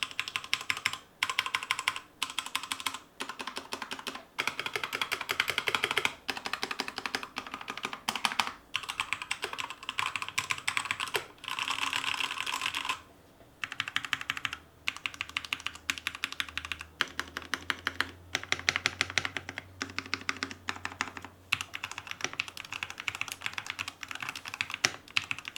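Rapid keystrokes on a stock Redragon K617 Fizz keyboard with lubed Outemu switches, a steady dense clatter of close, crisp clicks with brief pauses and occasional heavier bottom-outs.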